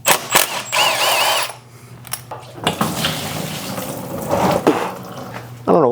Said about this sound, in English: We're going to lose a lot of coolant here.